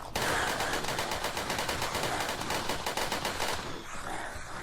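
Rapid machine gun fire in the video game Unturned, shooting at a crowd of military zombies: a loud, close, sustained burst of evenly spaced shots lasting several seconds before cutting off into a brief tail.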